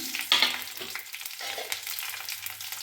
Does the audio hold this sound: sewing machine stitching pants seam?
no